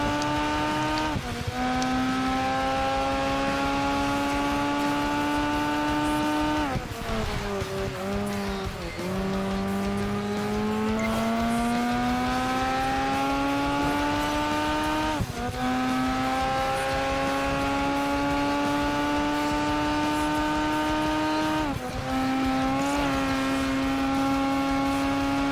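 Race cars roar through a street race in Project Gotham Racing 4, engines holding loud sustained revving tones that drop sharply at each gear change or corner and climb again, with tire squeal mixed in across the whole stretch.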